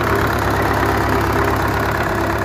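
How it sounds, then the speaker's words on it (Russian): An MTZ-80 tractor's diesel engine idles steadily outdoors in frost after a cold start without preheating, a loud, constant low rumble with no speech. "Мотор по звуку робить добро, ничего, никаких посторонних звуков нема"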